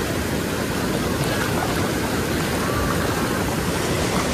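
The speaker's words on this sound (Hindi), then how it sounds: "देख रहे हैं झरना को" A waterfall and rushing river at Barwa Ghat near Bokaro roar as a loud, dense, unbroken wash of water noise close by.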